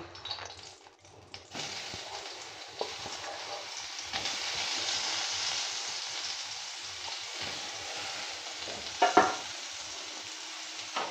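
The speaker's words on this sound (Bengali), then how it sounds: "সয়াবিনগুলো একটু নেড়ে চেড়ে ভেজে নেব।" Soybean chunks fry in hot oil in a wok while being stirred, giving a steady close sizzle with occasional louder scrapes and clatters from the stirring, no voices.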